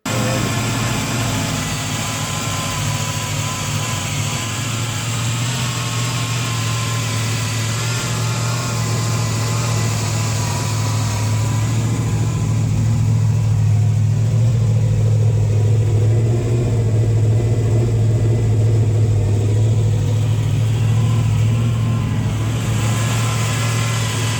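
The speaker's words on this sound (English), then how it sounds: "So here's a short video of the engine running with the old intake." A 350 Chevy V8 engine with throttle body injection runs steadily for the whole stretch, a loud continuous rumble that rises slightly in the middle as it revs, with no voices.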